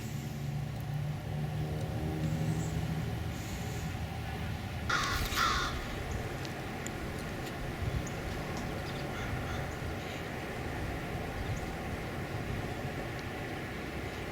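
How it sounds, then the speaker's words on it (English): Hoarse-voiced crow cawing outdoors in a backyard permaculture garden, a short burst of rough calls standing out over steady traffic and broadband background noise. "That hoarse voice crow has been around here for a long time."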